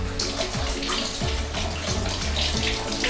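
Hot water runs from a tap in a hotel bathroom, a loud, continuous rushing splash with faint low pipe-like tones sliding underneath, close by and with no talking.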